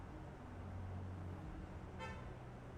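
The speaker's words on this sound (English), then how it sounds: "There was a car outside, it tooted." A single short car horn toot sounds from outside, slightly muffled, over a steady low hum of background noise, heard during a Final Fantasy XVI game session.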